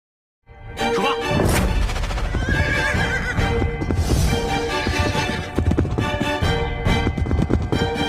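Horses whinny loudly and hooves clip-clop close by in a busy, dense burst that starts abruptly after a brief silence and keeps going, with repeated neighs and clattering steps.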